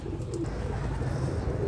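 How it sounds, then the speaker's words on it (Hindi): A pet pigeon gives a soft, low cooing close by for under two seconds against a steady background rumble. "ये कबूतर है उनका"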